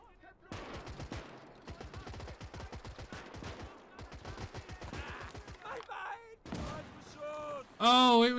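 Rapid WW2 rifle and machine-gun fire crackles through a battle in Gates of Hell, with an anti-tank gun nearby; dense volleys run for several seconds, then a louder tonal burst near the end.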